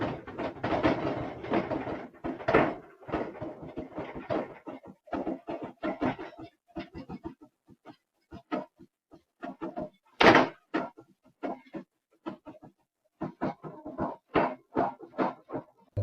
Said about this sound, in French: Et voici des images du moment où la porte du grenier tremblait.